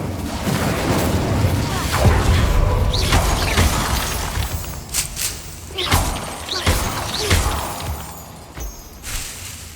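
In the Hogwarts Legacy video game, the Incendio fire spell bursts against Devil's Snare: several sharp crackling, whooshing blasts and thuds in quick succession, with flaring bursts of fire and game ambience between them.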